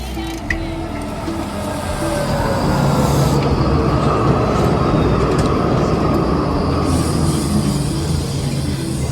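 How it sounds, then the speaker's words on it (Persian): A train pulls into a station in Darmstadt, Germany, with a loud, steady rumble of wheels on rails building up and holding close by, plus faint squealing and a brief clack near the start. "خیلی راحت اینجا رو شما میتونی بزنی، در قطار باز میشه، بری داخل"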